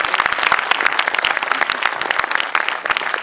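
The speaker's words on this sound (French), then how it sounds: "Merci, on peut encore les applaudir." An audience applauds dancers at a season presentation, dense steady clapping filling the whole stretch, loud and close throughout.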